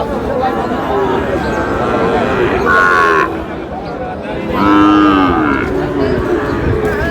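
A bull lowing at a Bangladeshi cattle market, a Flackbie breed, gives two loud, drawn-out moos in the middle of the clip over a steady background of crowd chatter.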